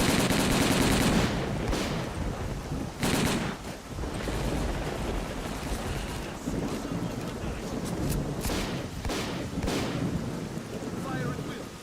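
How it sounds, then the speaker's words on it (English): Gunfire in the video game S.T.A.L.K.E.R.: Call of Pripyat, a dense stream of loud shots and bursts layered over windy, rumbling ambience, with a few sharper cracks standing out through the clip. "I'm firing at will."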